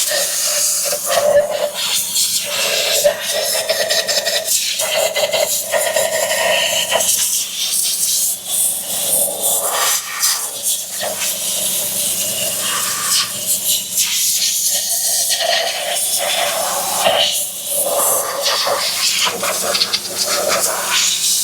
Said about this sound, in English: we're gonna create loud noises and blow that nasty away from the intake